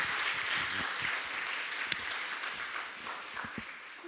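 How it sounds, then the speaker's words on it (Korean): An audience at a church creation-science seminar on dinosaurs applauds a lecturer, producing a steady, moderately loud patter of many hands with a few sharper individual claps standing out and no talking over it. "김혜원 박사님께 다시 한번 박수 좀 보내주시고"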